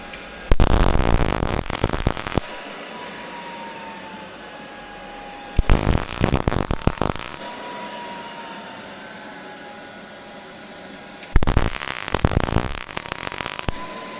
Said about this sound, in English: I'll weld it in, and then we will get the pan mounted back on.